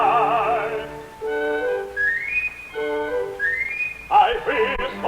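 Papageno's pan pipe whistle from Mozart's The Magic Flute, performed in English: bright, clear rising and falling melodic phrases, played alone with pauses between runs and a brief orchestral flourish at the end.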